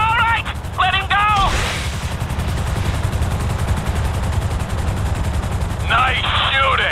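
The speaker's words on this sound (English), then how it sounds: "Nice shooting!" Rapid automatic gunfire and explosions in GTA V play as a dense, continuous barrage, with a rotor-like thrum underneath and chirpy high-pitched effects at the start and end.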